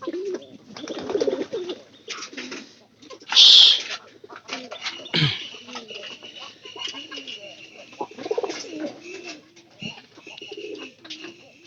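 Soft, low pigeon coos repeat throughout, close by, with a brief louder chirp and some faint voices in the background.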